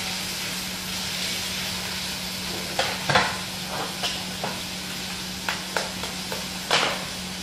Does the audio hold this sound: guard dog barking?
no